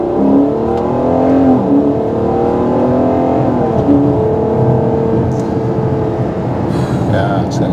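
A Ferrari Purosangue engine revs and hums steadily from inside the cabin, a continuous loud drone with rising and falling tones throughout and no talking.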